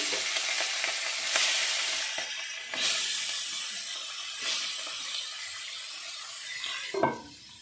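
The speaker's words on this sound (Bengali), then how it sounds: "এবারে মাছের মাথাটা ভেজে নিচ্ছি।" A fish head fries in oil with a soft, steady sizzle, swelling into several louder hissing bursts as pieces shift or are turned, and a sharp crackle flaring near the end; quiet and close.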